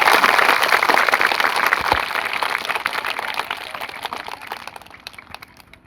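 Children at a school break into loud applause, a dense burst of clapping that starts strong and gradually thins out and fades over several seconds.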